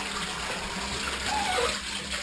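Water gushing steadily from a tap and overflowing, a continuous close splashing rush with no pauses.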